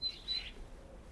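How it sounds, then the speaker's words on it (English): Birds chirp high and thin in a UK garden on a morning. The brief tweets sit faintly over a soft background hush. "the birds are singing"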